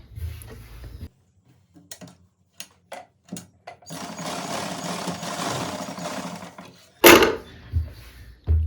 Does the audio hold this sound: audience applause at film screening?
no